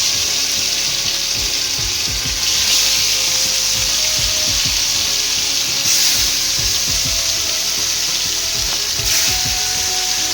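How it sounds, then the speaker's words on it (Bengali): Fish frying in oil in a pan, a dense close sizzle with crackling pops and occasional swelling bursts as pieces are moved, no voices. "এবার মাছটা ভেজে নেবো এই তেলে।"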